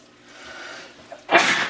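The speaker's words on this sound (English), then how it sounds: "I'm gonna have to sneeze." A quiet breathy intake builds up, then one loud sneeze bursts out close by.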